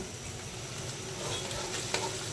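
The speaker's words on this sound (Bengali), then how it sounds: "পেঁয়াজ, কাঁচা ঝাল দিয়ে তেলের উপর ভেজে নিচ্ছি।" Onion and green chilli fry in oil with a soft, continuous sizzle and a faint utensil tap near the end, without any talk.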